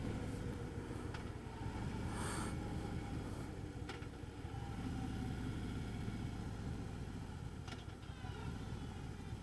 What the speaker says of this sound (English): Better not lug this motor.